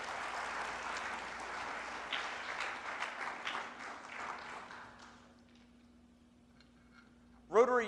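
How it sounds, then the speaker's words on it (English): Applause for a Rotary Youth Exchange group at a 2015 Rotary district conference, a fairly faint crowd clapping that fades out after about five seconds, followed by a brief louder sound near the end. "another big round of applause for Rotary Youth Exchange"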